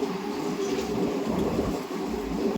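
A passenger train runs through the night from Palasa to Tirupati, a steady, dense rumble and clatter from inside the coach that holds an even level, with no talking.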